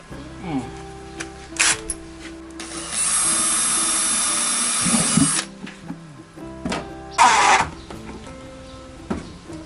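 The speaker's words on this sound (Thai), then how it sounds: "เดี๋ยวพ่อบ้านจะใช้ สกรูขันให้" A power drill drives screws to attach a handle for opening and closing a lid. Short whirring bursts are followed by one long, steady run and another brief burst, with voices and clatter around them.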